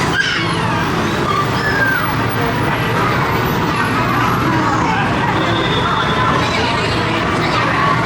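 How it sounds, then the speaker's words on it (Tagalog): Loud, continuous roar of busy street traffic in Thailand, cars, buses and trucks passing close by with engine drone and an occasional air-brake hiss, a voice talking over the din. "Sobrang busy na ng street. Traffic. It's the traffic."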